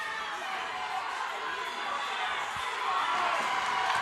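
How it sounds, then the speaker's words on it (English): Crowd at a Burn Boot Camp athletic games competition, cheering and shouting in a steady, moderately distant wash of voices that swells slightly toward the end. "All right, Patrice, you hear the crowd go wild."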